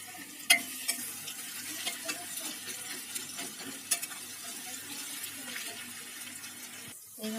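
Onions and chopped green chillies frying in a pan for a duck curry, giving a soft, low sizzle with several sharp clicks of a stirring spoon against the pan and a brief louder burst at the end.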